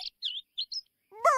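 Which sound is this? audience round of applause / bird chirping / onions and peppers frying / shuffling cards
bird chirping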